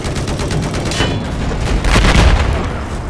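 Machine gun fire in the video game Battlefield 4, a loud continuous rattle of shots with booming impacts, dense and close throughout.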